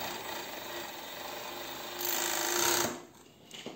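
An overlock sewing machine in a garment workshop runs in a short, fairly faint burst, its hum rising for about a second before stopping.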